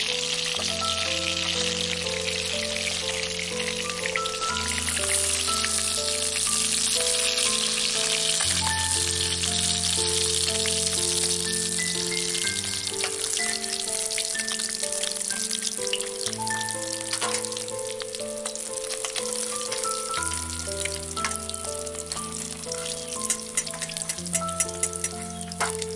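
Kalbasu fish pieces sizzle in hot oil for village-style fish curry, a steady bright hiss running throughout beneath loud, continuous melodic background music.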